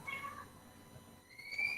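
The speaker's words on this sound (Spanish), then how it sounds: "gato, pero está maullando raro" A domestic cat gives a couple of short, odd-sounding meows, fairly faint against quiet room tone, with a brief louder cry near the end.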